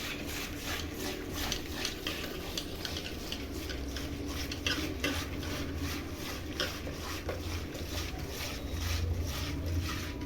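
Keerai greens rubbed and washed by hand in water, a steady wet sloshing and swishing with faint clinks of a vessel throughout, close and continuous.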